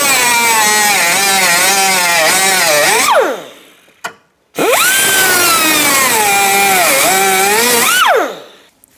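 High-pitched whine of a cutting wheel grinding through rivets on a 1992-1996 Ford F-150 door during window regulator removal, two sustained loud bursts with rising and falling pitch, separated by a brief pause, no talking.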